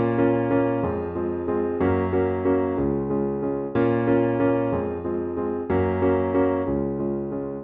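Piano plays the chords of a song in 6/8 with an even duple feel, rich sustained chords changing steadily and fairly loud, without any talking.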